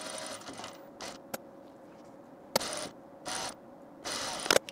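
A sewing machine stitches a blouse seam in short whirring bursts separated by quiet pauses, with small clicks and knocks from the mechanism between runs, close and without talk.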